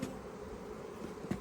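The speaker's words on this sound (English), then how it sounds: "So I'm trying to get all these bees off of here." Bees buzz steadily around a beehive frame as wax is scraped off on a warm day, a continuous close hum with a brief sharper scrape or bump near the end.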